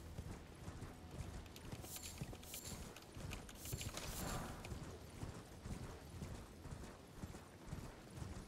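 Rhythmic clip-clop of a horse's hooves galloping steadily throughout in the video game Elden Ring, busy and continuous, with a faint mechanical clatter in the background.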